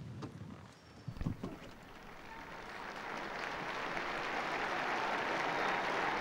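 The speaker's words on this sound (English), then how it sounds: "we hear the applause, thanking Pope Francis for this general audience" A large outdoor crowd at Pope Francis's general audience breaks into applause after the closing blessing, a few distant claps first, then a broad, steady wash of clapping that swells and holds.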